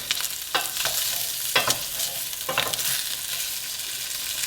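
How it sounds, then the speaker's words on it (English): Bacon sizzles steadily in a pan, with a few sharp pops and scraping bursts over the constant frying hiss. "If I squeeze down on it, it's got a little bit of a sizzle still."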